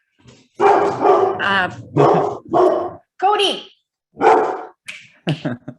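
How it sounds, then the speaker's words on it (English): A dog barking repeatedly at close range in loud, rapid bursts with short gaps between them, and a person speaking briefly among the barks. "Sorry, my dog."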